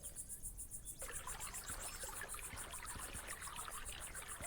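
Clear spring water trickling in the video game Rosewater, a steady soft babble with insect-like chirring over it, constant and close, with no talk.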